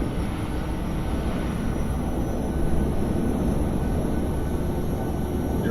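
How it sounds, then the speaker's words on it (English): Auxiliary power unit of a PMDG 737-700 starting up in Microsoft Flight Simulator, a steady low rumbling drone with broadband roar that holds constant and swells slightly midway. "Should see the APU firing up here momentarily."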